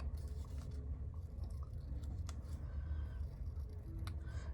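Scissors cut out a small paper lily pad, producing faint repeated snips and light paper rustling against a rumbling low background, close but quiet.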